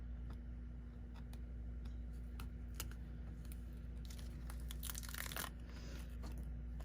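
The backing is peeled off an adhesive paper sheet in a card-making class, making scattered small crackles and ticks over a steady hum that build into a denser tearing crinkle near the end.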